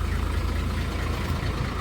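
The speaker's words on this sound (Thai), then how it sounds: "เสียงเครื่องของวิกเตอร์สองสี่สองหกนี่เสียงเครื่องกระเพาะมากเลยนะ" A Hino Victor 240 ten-wheel truck with a JO-series diesel idles nearby, a steady deep rumble with an even throb and no voices.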